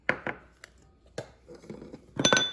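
Metal mixing bowls and utensils clink and clang in a home kitchen while carrot cake batter is made, with a few sharp knocks early on and a brighter ringing clatter near the end, fairly close and without talk.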